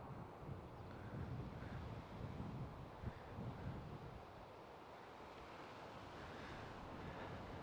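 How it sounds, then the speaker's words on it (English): Strong wind buffets the microphone at a fishing lake, a continuous low rumbling roar with gusty swells and no voices. "oh, that wind"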